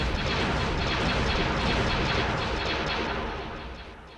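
Republic warships trade fire in a Star Wars mod of the space strategy game Sins of a Solar Empire, a dense, rumbling barrage of booming weapon shots that keeps up steadily before fading toward the end.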